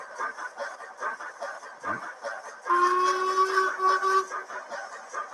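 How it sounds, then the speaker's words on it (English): A faint chuffing hiss gives way to a sustained, clear whistle from a model steam locomotive blowing for over a second, fairly close and steady. "Now, let's see what the whistle's like."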